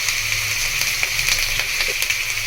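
Beef chaap, already tenderised, fries with garlic and ginger on a hot tawa, giving a steady bright sizzle dotted with small crackles and pops, close and fairly loud, with no talking.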